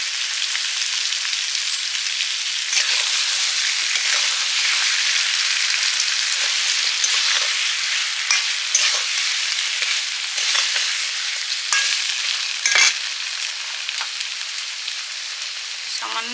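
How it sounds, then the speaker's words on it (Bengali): Poppy seed paste sizzles steadily while it is stirred as it fries in a pan for a pointed gourd posto dish. The bright crackling hiss runs continuously, with faint scraping stir strokes now and then. "পোস্ত দিয়ে কিছু সময় নেড়ে নেবো"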